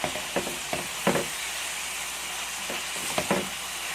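Chicken sizzles steadily in a pan while a quiche filling is being cooked, with a continuous frying hiss and a few brief louder crackles and spatters scattered throughout.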